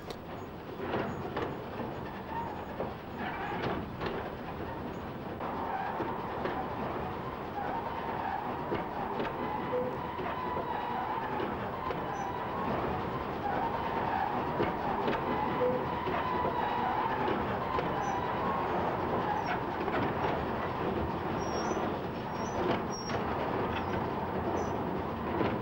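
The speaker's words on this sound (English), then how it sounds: "The lip bucket elevator then carries the coal along under the retorts and up the northern wall to the very top of the retort house" Coal-carrying bucket elevator running inside a gasworks retort house, a steady rumbling mechanical clatter with rhythmic knocks that continues evenly throughout, heard alone without talk.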